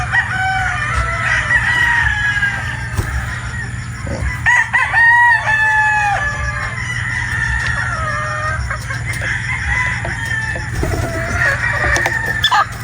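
Straight sweater pullets, newly arrived gamefowl chickens, cluck and crow nearby in a flock, with repeated loud crows rising over continuous clucking and chatter and a low steady hum underneath.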